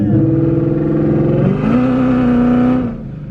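A car engine held on two-step launch control, a loud, close, sustained rough drone whose pitch steps up midway before fading off.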